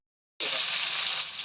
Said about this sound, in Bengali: আর এখানে চিলি চিকেনের জন্য পেঁয়াজ ভাজা বসিয়ে দিয়েছি